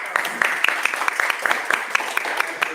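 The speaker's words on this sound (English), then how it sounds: "Let's give him a warm applause." A small audience claps warmly for an ambassador at an academic event, with sparse distinct hand claps in a fairly quick irregular rhythm, close and moderately loud.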